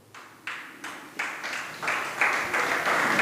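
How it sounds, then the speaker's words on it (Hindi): An audience at a Jain sermon starts clapping, the applause swelling in rhythmic waves that grow steadily louder and denser over a few seconds. "अब ये ताली बजाने की बात तो नहीं है, फिर भी बजा दी"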